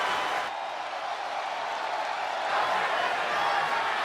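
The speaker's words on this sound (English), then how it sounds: "This Pro Mutiny crowd can't believe it" A video game wrestling crowd in WWE 2K25 roaring steadily, a broad wash of cheering and noise that holds throughout and swells slightly toward the end.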